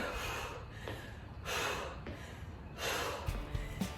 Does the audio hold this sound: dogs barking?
no